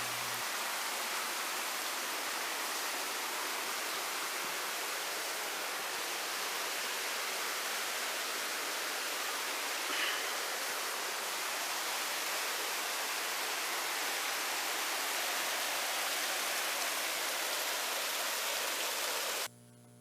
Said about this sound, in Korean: 지나가는 바위 앞릉 밑으로도 물이 흘러내려갑니다.